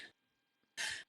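A single short, sharp sneeze bursts out near the end, preceded by a faint breathy sound, quiet and close in an indoor conversation setting.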